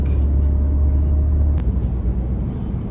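Slow-moving road traffic on an American road, heard from inside a car as a steady, heavy low rumble of engine and tyres with no one speaking.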